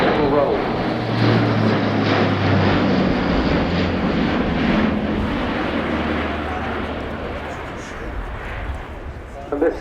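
An Airbus A400M turboprop transport flying a low-level display at an air show, its loud propeller and engine roar steady and close, gradually fading slightly, with a commentator talking over it.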